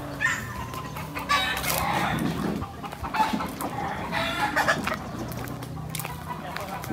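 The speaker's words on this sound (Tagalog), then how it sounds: "Mga manok." Chickens on a small farm cluck steadily with occasional crowing from a rooster, a busy flock heard fairly near amid outdoor noise and faint voices.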